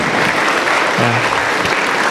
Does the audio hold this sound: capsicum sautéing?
no